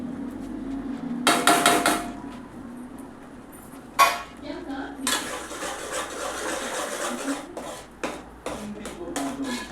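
Spices including pav bhaji masala, chilli powder, homemade masala and turmeric are stirred in a pan for pav bhaji, with scattered metallic clinks and scrapes of a utensil against the pan, a few sharper knocks, and steady background noise.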